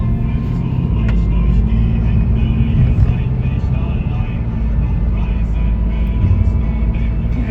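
Car driving on a road toward the city, a loud, steady low engine and road rumble from inside the cabin that stays constant throughout, with faint voices underneath.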